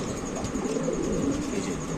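Pigeons coo softly and continuously in a steady murmur from birds kept at a Bangladeshi pigeon seller's, mostly near and moderately loud, with no talk over them.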